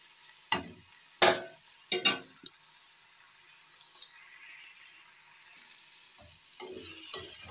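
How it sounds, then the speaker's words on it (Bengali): Fenugreek greens cooked with eggplant fry in a pan, giving a faint steady sizzle with a few sharp scraping clanks of a spatula near the start and scattered clinks later. "এবার হালকা একটু ভাজা ভাজা করে নেব, জলটা একটু কমিয়ে নেব"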